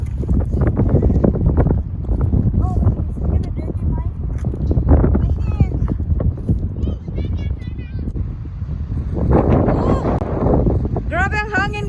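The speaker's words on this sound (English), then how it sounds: "Grabe ang hangin, guys." Strong wind buffets the microphone during a Sunday afternoon bike ride after winter, a continuous low roar running under a family's chatter and a voice.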